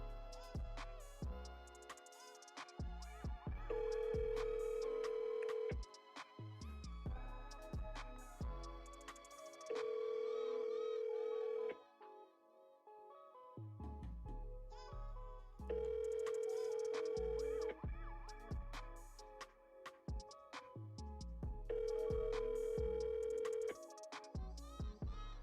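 Telephone tones repeat during a dialed call: steady sustained tone bursts return roughly every six seconds, alternating with busy electronic beeps and tones, fairly faint with no talking.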